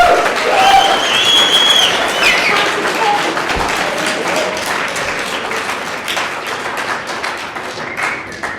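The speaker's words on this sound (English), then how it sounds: "Please give a loud and warm welcoming round of applause for Marc Scott Emery." Audience applause welcoming a speaker at a student drug-policy event, a dense wash of many hands with scattered whoops, loudest at the start and slowly thinning over several seconds, crowd chatter mixed in.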